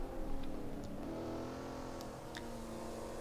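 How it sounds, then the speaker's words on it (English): Mustang race car engine in a TC Legends sim racing game at Monaco, a steady, loud droning roar that holds a sustained pitch and echoes with a slight surge early on, with no talking. "I love the echo of that Mustang engine"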